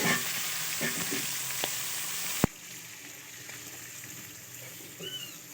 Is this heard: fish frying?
yes